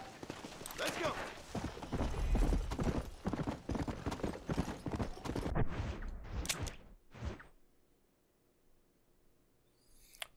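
Horse hooves clip-clop steadily and close in the Red Dead Redemption video game, a rapid run of hoofbeats with game ambience and speech over it, fading out near the end.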